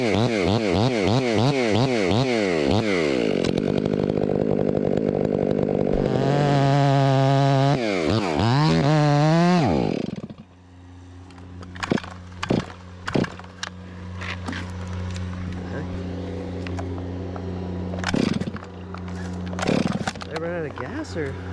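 A chainsaw cuts into a large fir tree about five feet across, its engine loud and revving steadily for about ten seconds, then cutting out, leaving quieter woodland sounds and a few sharp knocks.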